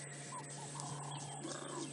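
Karula, a wild female leopard, gives soft, low calls to her cubs on an afternoon safari drive. The faint calls come at a distance under a constant hum and higher bird-like sounds.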